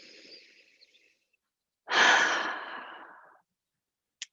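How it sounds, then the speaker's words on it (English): One slow, deep breath, a soft airy exhale that swells loudly, then tapers off over about a second and a half, heard alone and close in a quiet room during a guided self-compassion exercise. "So take another deep breath right now."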